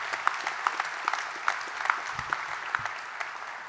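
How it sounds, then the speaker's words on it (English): Applause breaks out at an evening honouring Logan Shaw of Glace Bay, a sustained clatter of many hands with sharp, evenly spaced claps standing out near the listener. "So, round of applause."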